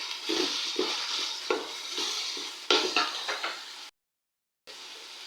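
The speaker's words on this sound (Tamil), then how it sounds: "இந்த பெரிய வெங்காயம் நல்லா பொன்னிறமாக செவக்க வரைக்கும் வறுக்கணும்." Large onions frying in a pan for chicken biryani, an even sizzle broken by repeated scraping stirs and a few sharp clinks, close and moderately loud, cutting out briefly near the end.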